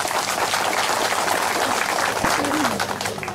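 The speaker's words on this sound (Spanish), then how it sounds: "Fuerza, aplausos a los jóvenes." A crowd at a political rally in the Concepción department applauds continuously and loudly, a dense wash of clapping with cheering throughout.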